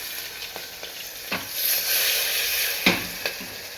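Onion, garlic, ginger, green chili and tomato fry together with a bright, continuous sizzle, broken by several sharp scraping stirs and a louder swell in the middle; no talking.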